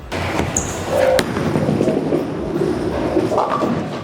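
150-year-old wooden bowling ball rolling down a lane and crashing into pins, a loud rumble followed by a sharp clattering impact near the start and scattered knocks after.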